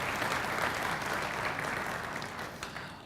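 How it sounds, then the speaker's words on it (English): Sustained applause from an audience at a talk event thanking sponsors, a dense steady wash of many hands clapping that fades slightly toward the end, with no voices over it. "Let's give them all a round of applause."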